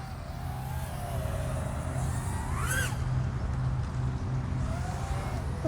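An FPV freestyle quadcopter with 1804 motors buzzes steadily throughout, its whine rising and falling with the throttle and sweeping up sharply once midway, with continuous wind and airflow noise.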